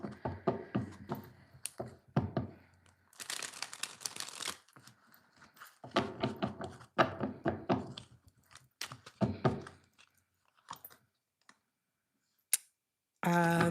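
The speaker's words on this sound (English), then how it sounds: "I'm going to do 2 more shuffles." Tarot cards being shuffled in bursts of crisp riffling and clicking, several separate rounds with short pauses between, close and moderately loud, with a voice speaking in places.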